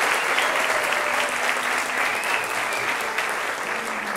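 Steady, dense applause from a sizable crowd at a national symphony orchestra concert, continuous and fairly loud throughout with no pauses.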